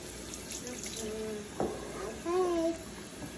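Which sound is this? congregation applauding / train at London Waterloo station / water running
water running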